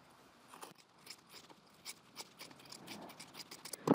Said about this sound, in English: We're just cutting the two layers of seam allowance,